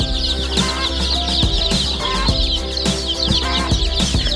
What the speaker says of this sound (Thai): ไก่เราเป็นไก่บ้านแท้ร้อยเปอร์เซ็นต์นะครับ แต่ว่ามีหลากหลายสีนะครับ